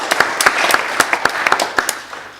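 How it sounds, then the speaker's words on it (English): An audience at a Round Table-sponsored Commonwealth debate in Birmingham claps, giving a brisk patter of distinct, fairly loud hand claps from a modest crowd that thins out toward the end. "Can we again have a big round of applause for our speakers, please?"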